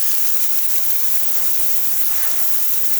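The steam wand of a freshly serviced VBM espresso machine lets out a strong, steady, close hiss of steam with no pause.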